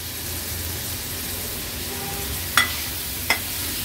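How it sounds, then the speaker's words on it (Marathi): Prawns frying in tomato masala in a pan, a steady hissing sizzle with two sharp clinks of a utensil near the end, close and without talk. "टोमॅटो मसाल्यांमध्ये परतून झाला की हे जे प्रॉन्स आपण स्वच्छ धुवून घेतले ते ऍड करूया।"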